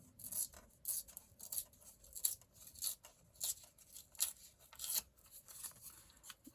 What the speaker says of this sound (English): I'm going to tear out my quote